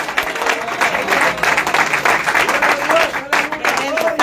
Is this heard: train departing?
no